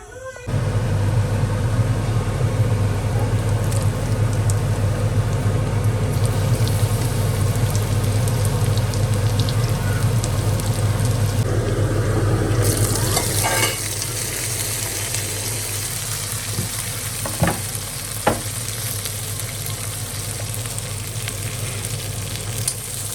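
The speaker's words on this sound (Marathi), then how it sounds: "तेल छान गरम झालं की मारूया फोडणी" Okra tempering sizzles loudly in hot mustard oil in a kadhai, a dense steady frying hiss that drops to a quieter crackle partway through, with a few clinks of stirring.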